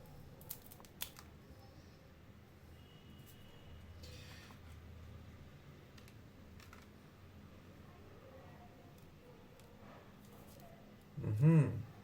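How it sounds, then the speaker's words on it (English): In a quiet room, a Victorinox Cigar 79 cutter snips the tip off a cigar with a single short, crunchy cut near the end, after long near-silence. "I'm guessing you have to cut off this bit"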